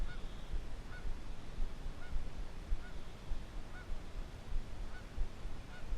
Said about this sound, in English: Hear that goose? She's mad at me because there's a nest over here